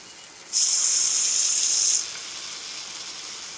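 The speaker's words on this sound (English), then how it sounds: "there go that sizzle" A sharp burst of sizzling as meat hits a hot pan, loud hissing for about a second and a half, then settling to a softer steady fry.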